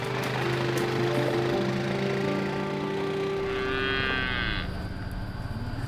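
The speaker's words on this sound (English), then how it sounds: "Barry gets the cows with Annabella, and me and Lincoln come up and we start the milking" Dairy cows low with long, deep moos at milking time on an Australian farm, one after another, over the steady drone and rhythmic pulsing of milking machinery.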